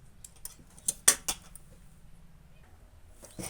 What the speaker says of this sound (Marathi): जे एक्स्ट्रा कपडा आहे ना हा हा आपल्याला कट करून घ्यायचा आहे